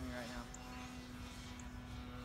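An E-flite Timber X radio-controlled model airplane buzzes overhead with a steady whining motor drone, moderately distant, while voices talk nearby.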